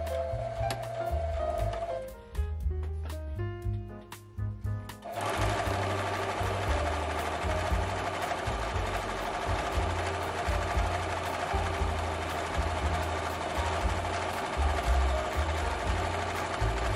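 Sewing machine running steadily, stitching the sleeves of a 1920s-style afternoon dress; after a few brief starts and stops the motor hums continuously and loudly with a fast rhythmic needle clatter.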